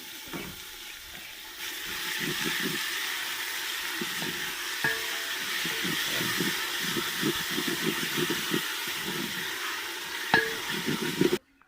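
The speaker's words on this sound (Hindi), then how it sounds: "पालक और लहसुन जो है सब्ज़ अच्छी तरह भूनना चाहिए" Spinach and garlic fry in a pan, giving a steady sizzle broken by stirring scrapes and occasional spoon clinks, close and moderately loud, without speech.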